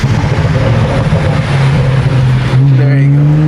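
BMW 335i engine with automatic rev matching, a loud steady drone from inside the car that rises in pitch near the end as the revs climb.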